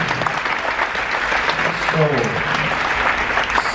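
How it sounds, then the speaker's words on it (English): Steady applause from an audience at a hypnotist stage show fills the space, dense clapping continuing evenly throughout with a brief murmur of voices partway through. "let's give a big round of applause for the start of your show"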